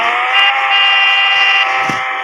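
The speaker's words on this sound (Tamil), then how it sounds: "ஹார்ன் எல்லாத்துக்கும் சரி சமமான ஹார்ன் தான்" A single sustained car horn blast, loud and close, holding steady for about two seconds.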